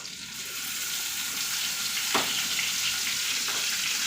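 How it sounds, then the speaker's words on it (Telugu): Onion, ginger, tomato and green chillies fry in oil as the base of a gravy for chicken curry, giving a steady close sizzle broken by a couple of sharp stirring scrapes. "పచ్చిమిరకాయలు వేస్తున్నాను. ఇది ఉల్లిపాయ, అల్లం, టమాటీ అండి."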